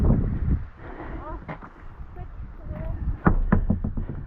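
Gusty wind buffets the microphone at an outdoor scenic lookout, a steady low rumble rising and falling throughout, with scattered knocks and brief voice sounds mixed in.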